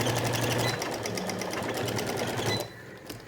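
A sewing machine stitching a cloth face mask, with a rapid rhythmic run of needle strokes close by that stops abruptly near the end.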